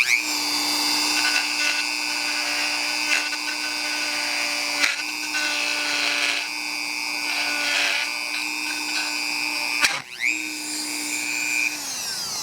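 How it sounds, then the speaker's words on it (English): Dremel rotary tool grinding at a steady high-pitched whine for about ten seconds, dipping briefly as the bit catches, then spinning back up, loud and close with no talking. "I guess I could use a Dremel and get it out."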